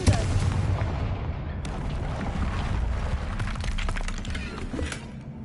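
A Confringo blasting spell goes off in Hogwarts Legacy, giving a sudden loud burst that trails into a dense, rumbling, crackling blast with scattered debris-like cracks across several seconds.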